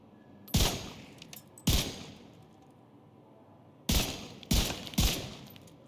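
Rifle gunfire at a shooting range in The Division 2: five loud, sharp shots in two groups, two spaced about a second apart, then after a pause three in quicker succession, each with a short ringing tail.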